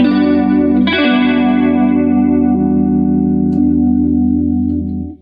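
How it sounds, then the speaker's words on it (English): Electric guitar through a chewy chorus pedal with the rate turned down, a loud sustained chord with slow wavering modulation, struck again once early on and ringing for about five seconds before cutting off, no talking. "it's a great chewy chorus. I'm going to turn the rate down a little bit."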